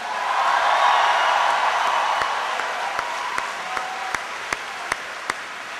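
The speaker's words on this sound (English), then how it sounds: "Please give a big round of applause to Patrick Lynch." A large campaign rally crowd at Rhode Island College applauds loudly and steadily for attorney general Patrick Lynch, with a few whoops, then the clapping thins out to scattered sharp individual claps.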